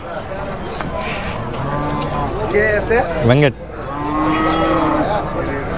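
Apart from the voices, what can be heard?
cows mooing at a cattle market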